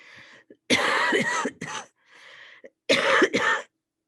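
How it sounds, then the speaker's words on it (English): Several harsh coughs in two bursts, with a throat-clearing rasp between them, close and loud against silence. "I should warn you, I might be coughing during this"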